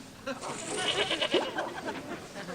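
A goat bleats indoors in a sitcom scene, a short wavering cry rising above a noisy background of voices and laughter, moderately close.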